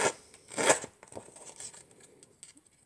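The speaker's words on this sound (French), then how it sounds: "Je vais passer mon distress sur mon papier." A distress ink tool scrapes and rubs over the edge of paper while a handmade card is being made, a few soft close brushing strokes, strongest at the start, then fading into faint scratches.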